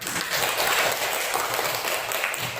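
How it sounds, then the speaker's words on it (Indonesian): Audience applause at a school presentation on positive culture, a steady wash of many hands clapping that holds at an even level throughout. "Dan tepuk tangan semuanya."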